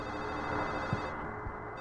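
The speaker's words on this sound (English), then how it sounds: "Hope you like the sound of a phone ringing." A telephone ringing in the horror game Silent Hill 4, a steady bell tone held at low volume inside a dense, droning ambient hum.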